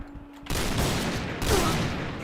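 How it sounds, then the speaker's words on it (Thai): Sniper rifle shots in Point Blank, an SSG-69 or M200, ring out as two loud, close blasts about a second apart, each followed by a long noisy tail, after a short quiet lead-in. "เจ็ดนัดยิงไม่โดนคือไรเพื่อน"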